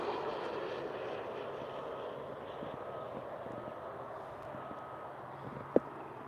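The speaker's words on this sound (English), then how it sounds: "That's probably like a first-class private plane, private jet." A private jet passes overhead as a steady, distant broadband roar that slowly fades, with one brief click near the end.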